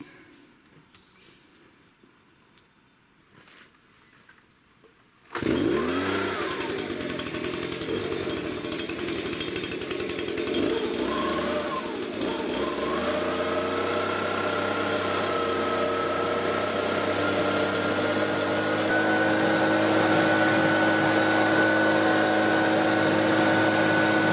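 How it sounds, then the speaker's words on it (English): A loud motorized blower switches on abruptly after a quiet start and roars steadily while cleaning out a rusted cast iron wood stove, its droning pitch shifting slightly as the nozzle moves inside. "the blower seemed to do a really good job"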